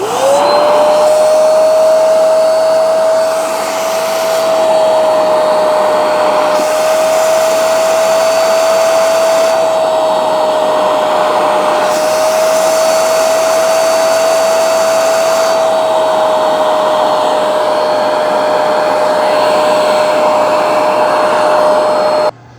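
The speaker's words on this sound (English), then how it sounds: "it's going to shoot fresh solution while it's sucking through the hose to clean it" A Hoover spot carpet cleaner runs loud and close, its motor whining at a steady pitch while it sucks solution through the hose, with the rushing airflow shifting slightly now and then and no talk.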